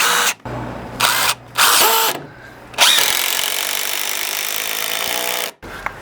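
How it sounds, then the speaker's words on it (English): A power drill drives screws into wood while rotten beams are replaced, with several short loud whirring bursts followed by one long sustained run, close and with no talking. "I'm going to get a couple of screws in here."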